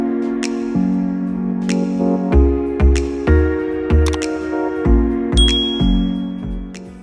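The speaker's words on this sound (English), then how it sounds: "turning on your post notification bell" Repeated bright bell-like dings of a notification chime ring out over a steady musical backdrop, several sharp struck tones in close succession, loud and alone without talk.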